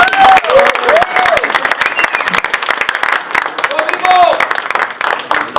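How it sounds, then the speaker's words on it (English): Room applause from the audience at a post-fight press conference for WBA light heavyweight champion Dmitry Bivol, dense steady clapping with a few voices and whistles mixed in, fairly loud and close throughout. "a round of applause for a fantastic performance from Dmitry Bivol"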